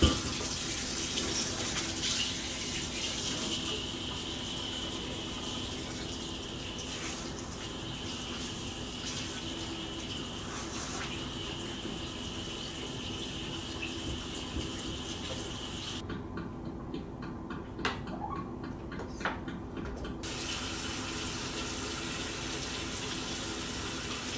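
Steady running water from a tap splashes over a kettle grill part being washed, a continuous close gush with small clatters and shifts in the flow partway through.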